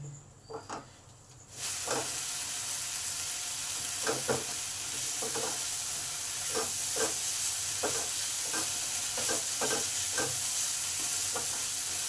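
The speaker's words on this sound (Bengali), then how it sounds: "মিনিট ধরে মশলাটাকে কষতে হবে, যতক্ষণ না তেল ছেড়ে যায়।" A spice masala fries in oil for an eggless vegetarian omelette curry. A few faint clinks give way to a steady hissing sizzle, broken by regular scrapes of a spatula stirring the pan.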